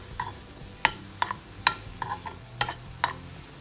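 A spoon scrapes and knocks in a pan as kurukku kaalan, a thick yam curry, is stirred; sharp taps come at an irregular pace over a faint sizzle.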